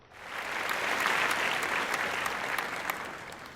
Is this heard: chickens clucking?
no